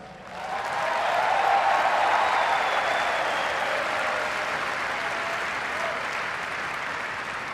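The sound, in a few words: crowd applause during a victory speech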